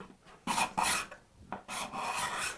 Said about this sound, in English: But if you're going against the grain, card scraper can do that.